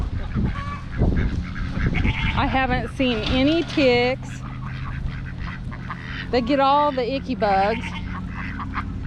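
Ducks and geese in a homestead yard honk and quack in two loud bursts of calls while someone talks nearby about bugs and ticks.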